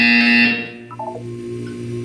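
An electronic buzzer from the video game Portal 2 gives a loud, harsh, steady tone for about half a second, then stops, followed by a few softer synthetic blips over a low background hum.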